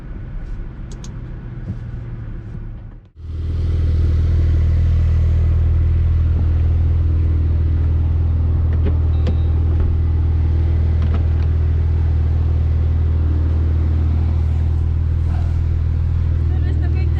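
Porsche engines idling at Audru Porsche Ring, a loud steady low rumble heard from inside the car after a door thud, with voices talking over the running motors.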